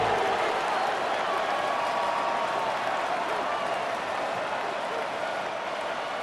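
A dense, steady roar of stadium crowd noise fills a Madden 26 football game on PS5 Pro, Steelers versus Chargers near the red zone, loud and unbroken throughout with no distinct voices.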